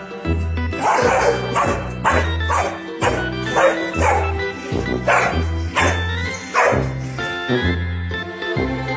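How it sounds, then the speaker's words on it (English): Two dogs play-fighting, trading repeated bow-wow barks and yips in a steady, close, fairly loud rhythm, with a faint jingle like a collar tag between them. "These two dogs are good friends, but they like to play like they are fighting each other."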